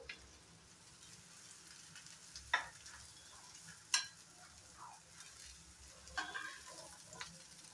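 Drumstick leaf and egg fritters frying in oil, a soft steady sizzle with a few sharper pops and spatters, close and fairly quiet, no voices.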